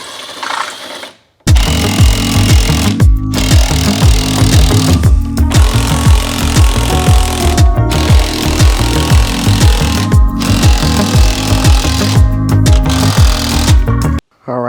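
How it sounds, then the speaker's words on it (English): A power driver with a T55 Torx bit backs out the top screws of a Maserati Ghibli front bumper, producing loud, close, rapid rattling runs broken by several brief pauses. "So now using our T55, we can take out these top 6"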